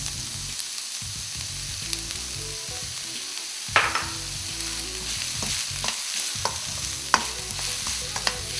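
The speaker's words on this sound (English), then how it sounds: "Let that fry for a minute." A vegetable cutlet mixture with green peas sizzles steadily in a pan while a spoon scrapes and stirs it in irregular clacks, close and clear with no talking.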